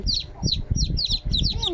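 Chickens cluck and chirp in a quick burst of short, high calls, close by and fairly loud.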